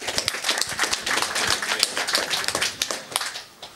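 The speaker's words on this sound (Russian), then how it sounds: "Аплодисменты Тоглу." Light applause from a small conference audience, a thin scatter of claps for a few seconds that fades at the end.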